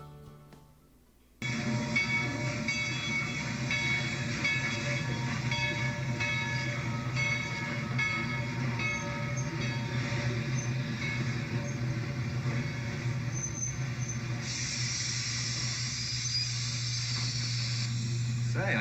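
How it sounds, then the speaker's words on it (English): Old Hetch Hetchy Railroad locomotive number 30 rolls through the Red Hills with a steady, loud mechanical rumble and hiss, heard continuously and close after a sudden start. "The studio actually used a locomotive from the Hetchetchee Railroad, old number 30, to roll through the Red Hills scenic landscape."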